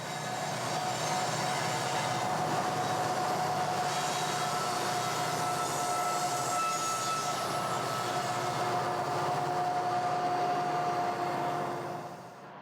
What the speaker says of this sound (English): SD-70 Max handle all BNSF coal trains on the joint line